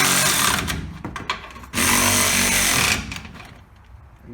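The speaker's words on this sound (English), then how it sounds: "So we're gonna tighten up on these bolts." Power tool tightening bolts during a spring and shackle install on a 1977 Ford F150, a loud rattling impact burst lasting a few seconds, briefly pausing, then running again before winding down.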